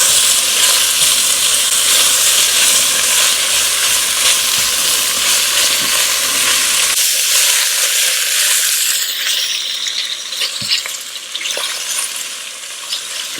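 Kielbasa sausage browning in a pot, a loud, continuous sizzle and crackle with occasional clinks and stirring scrapes, fading somewhat toward the end.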